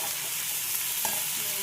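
Pumpkin pieces frying in a pan with salt and turmeric, a steady close hiss and sizzle with faint stirring scrapes, no voices.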